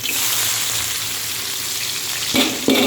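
Sliced spices being sautéed in hot oil give off a loud, continuous sizzle and crackle, with two brief bursts near the end as the mixture is stirred or more is added.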